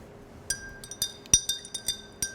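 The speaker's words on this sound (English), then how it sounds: "Give it a stir." A spoon stirs boozy coffee in a glass, giving a sequence of bright, close clinks against the glass spaced irregularly over a quiet background.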